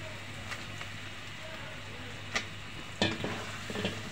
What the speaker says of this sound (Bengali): এখন আমি পটলগুলি দিয়ে দেব, ভেজে রাখা পটলগুলি দিয়ে দেব।